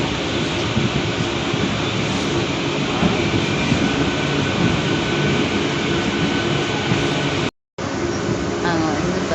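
A suburban train rumbles along steadily from inside the carriage near Tambaram, Chennai, a loud continuous roar with a brief cutout near the end.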